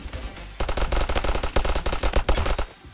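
Rapid automatic gunfire from a Vector-like submachine gun with a fairly slow fire rate in the shooter game Phantom Forces, a loud close burst of evenly spaced shots lasting over two seconds after a brief pause.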